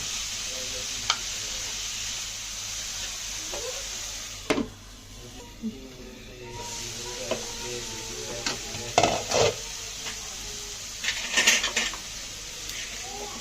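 Masala egg fry frying on low heat in a pan, a quiet steady sizzle with occasional stirring clinks and scrapes, no talking over it.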